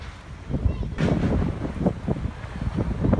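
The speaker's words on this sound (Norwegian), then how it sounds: "det blåser så sinnssykt her i byen" Gusty wind in the city of Stavanger, Norway buffets the microphone in low rumbling bursts, with people talking over the roar.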